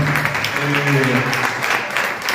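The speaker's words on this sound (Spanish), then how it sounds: "Otro fuerte aplauso para esto." Audience applause at a tribute ceremony of a Guarani language and culture institute, a short steady round of clapping filling the room, with a voice faintly underneath.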